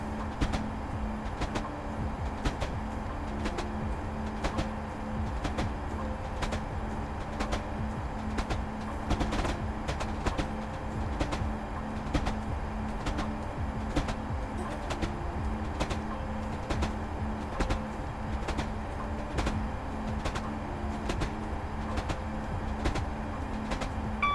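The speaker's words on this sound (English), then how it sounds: "90 is the top speed of this train" Train running near its 90 top speed on an autumn run, a steady rumble with a regular rhythmic clacking of wheels over rail joints throughout, close and continuous.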